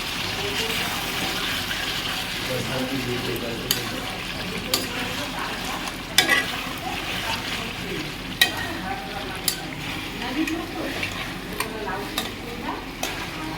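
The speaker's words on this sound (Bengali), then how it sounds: "চিকেনটা ভালো করে কষাবো।" Chicken is stirred and fried in a pan with oil, a soft, steady sizzle broken by repeated sharp scrapes and clicks of the spatula against the pan.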